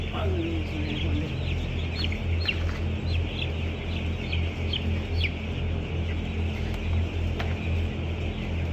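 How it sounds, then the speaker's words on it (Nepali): Ten-day-old Cobb 500 broiler chicks peep in a steady crowded chorus over a constant low hum in the shed, with a brief voice early on. "हाम्रो 10औं दिनको यो बोइलर कप 500 को चल्ला"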